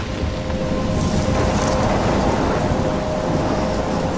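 A steady storm roars in Life Is Strange, constant heavy rain with a low rumbling thunder underneath, loud and unbroken throughout with no voices.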